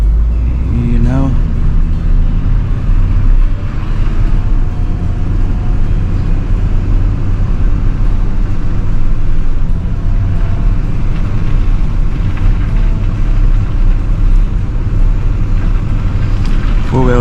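A four-wheel drive vehicle pushes through snow during a snowstorm, its engine a steady, close, continuous rumble throughout with a faint voice talking underneath.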